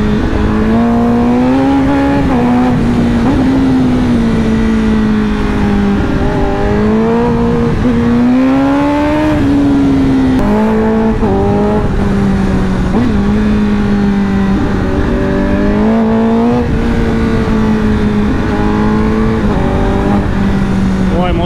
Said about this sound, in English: Motor voli živit poslije 9000 okretaja.